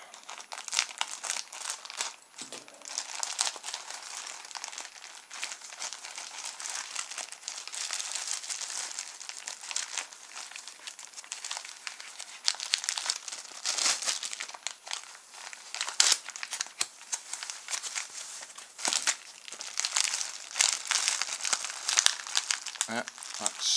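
Plastic packaging of DC-DC buck converter modules crinkles and tears while blunt scissors cut it open, a continuous close, loud rustling with sharper snips throughout.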